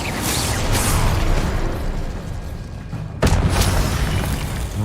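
A fire spell, Incendio, cast in a Hogwarts video game, bursting out as a loud booming whoosh amid a dense wash of game effects, with a sharp fresh blast near the end.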